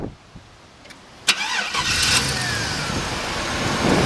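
A fuel-injected 1966 Chevrolet Nova with an aluminum radiator and electric fans cranks briefly, then catches and settles into a steady, fairly quiet idle. The engine is heard close up, with no voices.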